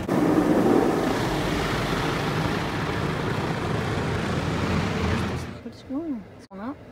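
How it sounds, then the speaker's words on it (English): A high-pressure water spray at a car wash washing a van roars as a loud, steady hiss for about five seconds, then cuts off, leaving people talking. "Oh, well, that must be the high pressure, Kathy."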